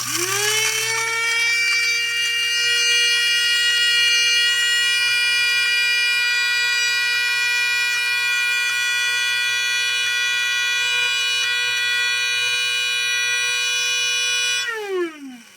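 Electric grinder whirring steadily as it grinds dehydrated paprika peppers into powder, a loud sustained motor whine that spins up at the start and winds down at the end.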